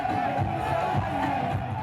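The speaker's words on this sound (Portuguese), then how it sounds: "O anúncio foi recebido com aplausos." Crowd noise with cheering fills a room as Sierra Leone's Ebola epidemic is declared over; a dense, steady roar holds throughout without clear breaks.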